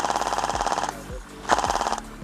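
An Elite Force VFC H&K MG4 airsoft light machine gun fires two fast, even bursts of rattling shots, close and loud, with a short pause between them.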